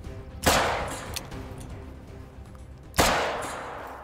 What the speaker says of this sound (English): Shoot him till it won't let you no more.